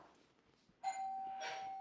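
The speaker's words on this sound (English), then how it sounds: "So ring the doorbell." A single electronic doorbell chime sounds, sustained and ringing out, somewhat distant in a quiet room.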